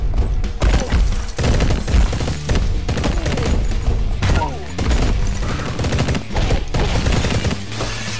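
Rapid gunfire from the video game Mr. Shifty rattles in dense, continuous bursts, loud and close, with overlapping shots and thumps filling the whole stretch.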